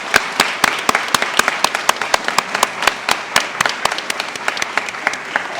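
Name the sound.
audience round of applause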